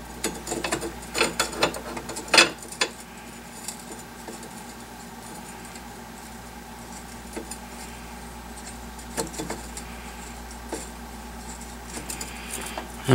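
Screws are hand-tightened into a Chaos quad rail on a Saiga 12 shotgun, with small metallic clicks and scrapes close by under a steady background hum, no speech.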